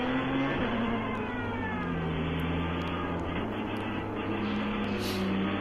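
A field of race cars, a Porsche GT3 Cup car 4.0 among them, rolls through a pace lap at reduced speed, engines droning and rising and falling in pitch as they pass, with a faint voice over the top.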